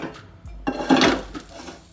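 A kadai pan is set down on a gas stove, making one short, muted metallic clunk in a quiet kitchen.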